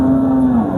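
A cow at a busy cattle market lets out a single loud, low, sustained moo very close by.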